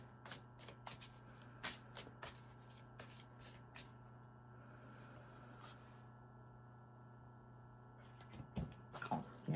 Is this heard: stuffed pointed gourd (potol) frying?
no